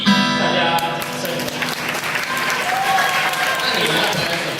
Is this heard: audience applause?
yes